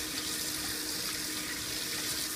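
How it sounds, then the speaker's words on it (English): Tap water running steadily into a sink while a styrofoam print is rinsed, a continuous close, broadband rush with no talking. "I just turn on the water and rub it clean."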